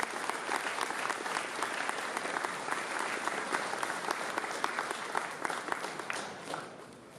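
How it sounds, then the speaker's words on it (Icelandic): Sustained applause from a concert audience at an accordion festival in Ísafjörður as a performer walks on stage, many hands clapping in a dense, even wash that fades slightly at the end. "við skulum bara gefa henni gott klapp meðan hún stígur á sviðið"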